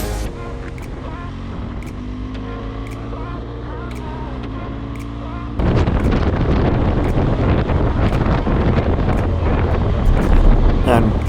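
Heavy wind buffets the microphone with a loud, rough roar that grows stronger midway, over a low engine hum.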